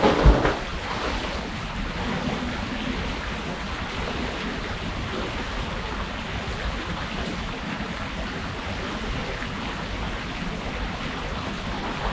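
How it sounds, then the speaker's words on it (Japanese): Water rushes and churns steadily in a pool at an upscale gym in Laos, a continuous broadband wash with no voices. "ここは水がずーっと流れてるし"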